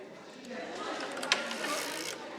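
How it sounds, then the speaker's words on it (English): A circular sock knitting machine working short rows, a steady mechanical whir with small ratcheting clicks and one sharp click midway, close and moderately quiet. "So I'm going to do short row knitting back and forth."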